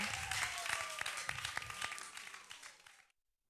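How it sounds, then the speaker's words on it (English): Studio audience clapping for a talking drum performer on a Ghanaian breakfast news TV show, with distinct sharp claps over a sustained tone, fading and cutting off abruptly near the end. "A round of applause for True Arts."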